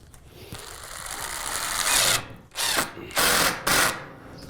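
A power driver whirs, then drives a screw with a washer into a shed roofing panel in several loud bursts with short pauses between them, close up and without speech.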